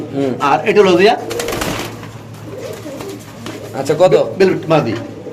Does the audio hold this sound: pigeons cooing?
yes